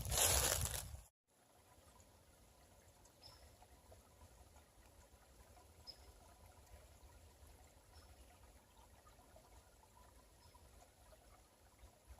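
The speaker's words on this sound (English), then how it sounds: "there's a little runoff creek here that runs into the lake" Small runoff creek trickling into a lake on a winter hike, a soft steady wash of flowing water heard close and alone after a brief louder burst at the start.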